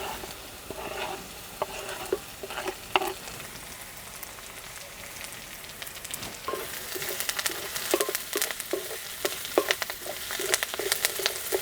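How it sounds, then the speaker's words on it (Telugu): Onions frying in oil in a pan, joined by green chillies and curry leaves, giving a steady close sizzle with scraping stirring strokes throughout; no talk. "చూసారుగా ఉల్లిపాయలు ఈ విధంగా వేగాలండి"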